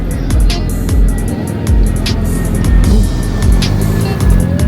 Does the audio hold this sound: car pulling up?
yes